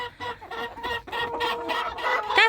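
Hens cluck in quick, repeated bursts close by, a busy chorus of short calls with a sharper squawk near the end.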